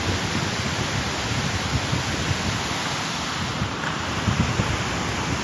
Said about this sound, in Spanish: Se siente la fuerza y la potencia del río Cauca en Hidroituango.